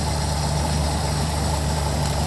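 A car engine idles steadily while its carburetor mixture is leaned out, a loud, continuous low rumble with a slight waver and no voices over it.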